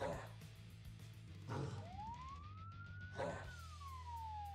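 An ambulance siren sounds in the Cocaine Bear video game, a single clear wail sweeping up and down over game sounds and background noise.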